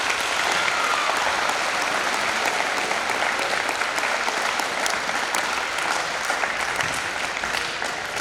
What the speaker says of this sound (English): recognize them with a round of applause